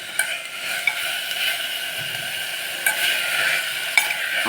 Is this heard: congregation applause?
no